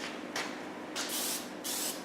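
Short bursts of spray paint hiss onto a scale model hovercraft whose fan nacelles are stuffed with paper, three close, loud sprays separated by brief pauses.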